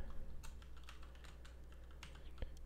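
Someone types on a Mac computer keyboard, a quick irregular run of soft key clicks over a quiet room hum, with one slightly louder tap near the end.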